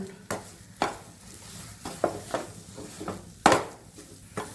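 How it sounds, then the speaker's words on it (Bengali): A spoon or spatula scrapes and stirs thick spice masala for soya cutlets around a wok in irregular clatters, with a faint sizzle underneath and no talking. "সব কিছুকে খুব ভালো মতো মিশিয়ে নেব। মশলা মোটামুটি কড়াইয়ের গা ছেড়ে দিচ্ছে"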